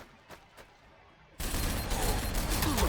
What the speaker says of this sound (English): He's just gunning down his own guys.